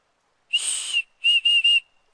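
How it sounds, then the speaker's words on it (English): A small shrill whistle blown close by: one long blast, then three short toots in quick succession, with silence around them. "it's a whistle. It's a whistle."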